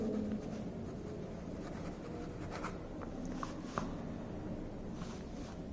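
Chalk or marker writing on a classroom board during an English grammar lesson for fourth graders, a faint steady scratching with a few soft taps over low room hum, no talk.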